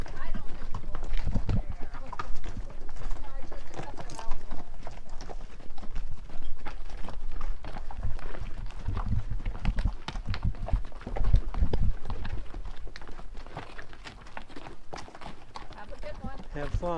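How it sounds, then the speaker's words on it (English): Hooves of large pack animals clip-clop on a Grand Canyon North Rim trail, an irregular stream of steps close by with people talking over them throughout. "Big old donkeys. They look as big as horses."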